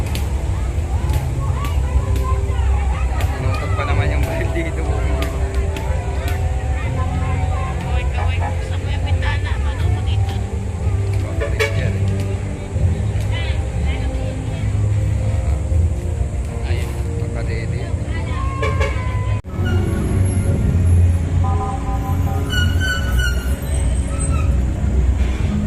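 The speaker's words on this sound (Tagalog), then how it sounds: "isa-isang nagdaraan ang mga sasakyan ng militar at pulis" A procession of military and police vehicles rolls past at a presidential inauguration, a constant low engine rumble under loud crowd noise and talking, with sharp whistles or horn-like tones toward the end.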